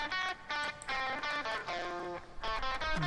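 A processed electric guitar part from a song, tracked at Telefunken Studios and treated with EQ, saturation and compression, plays rhythmic chord stabs with reverb added, each hit trailing into a roomy wash.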